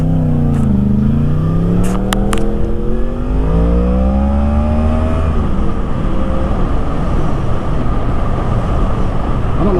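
A motorcycle engine roars loudly close by on a road, its pitch sweeping down and then climbing as it accelerates, holding a steady, dense drone with faint wind noise and no voices.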